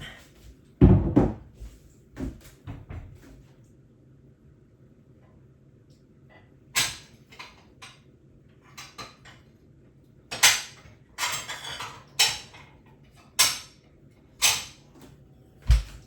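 Clinks and knocks of dishes being shifted around, scattered bursts with quiet gaps between, close by and fairly loud, no talking.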